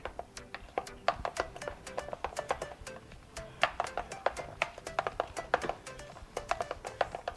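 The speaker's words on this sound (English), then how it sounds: "And then I'm going to use my spoon to mix it." Spoon stirring red food coloring into pancake batter for mini rainbow pancakes: rapid, irregular light clicks and taps of metal against a bowl, quiet and close, continuing for several seconds.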